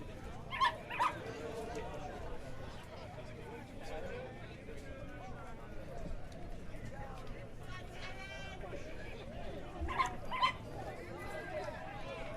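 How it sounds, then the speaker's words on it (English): A dog barks twice in quick pairs at a softball game, near the start and again near the end, amid background crowd murmur and a distant voice. "You might have heard a dog barking."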